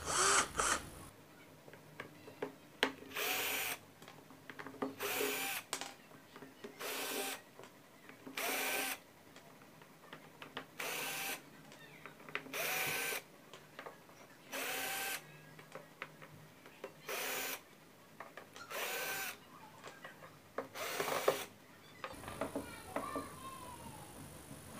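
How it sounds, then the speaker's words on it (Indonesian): A cordless drill unscrews bolts on a Polytron Paspro active speaker, about a dozen short loud whirring bursts separated by quiet pauses, close up. "Jadi saya menggunakan bor ini."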